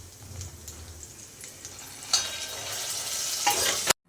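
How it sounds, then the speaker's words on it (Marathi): Cooked dal with turmeric, salt and green chilli goes into a hot pan; quiet stirring gives way to a sudden, louder sizzle that holds steady until it abruptly stops. "चला आता डाळ टाकून घेऊ."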